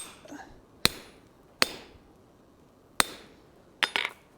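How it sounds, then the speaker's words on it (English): A hammer strikes a chisel cutting through hot metal on an anvil at a blacksmith's forge, four sharp metallic clinks spaced unevenly over a quiet background, the last followed by a short ringing scrape. "Go right back down to chiseling through it."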